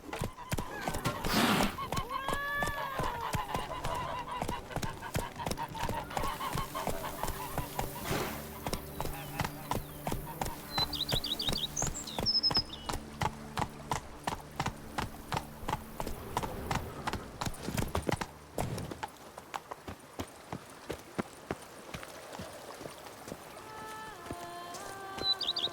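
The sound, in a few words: horse hooves clip-clopping in The Witcher 3 Wild Hunt video game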